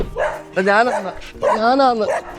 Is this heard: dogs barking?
yes